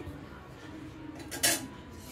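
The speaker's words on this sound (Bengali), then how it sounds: "এটাকে নেড়ে দিচ্ছি, দেখুন এরকম করে নেড়ে দিচ্ছি।" A metal spoon stirs a lentil and jute leaf dish in a pot, producing one brief, bright scrape and clink against the pot amid a quiet, low background.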